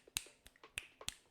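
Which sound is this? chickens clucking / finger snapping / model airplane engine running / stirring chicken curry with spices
finger snapping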